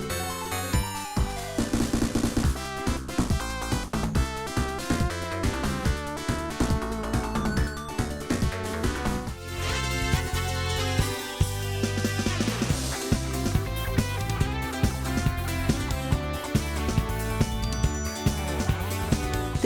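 Green Grove Zone background music from the Genesis version of a Sonic the Hedgehog video game plays continuously: dense, busy, upbeat music with punchy percussive hits and no voices.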